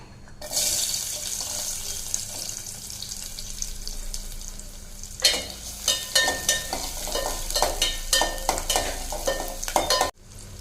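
About twenty small shallots frying in oil with fennel seeds and cinnamon in a pan, first a loud bright hiss as they go in, then a sizzle under frequent scraping stirs, close up and without speech.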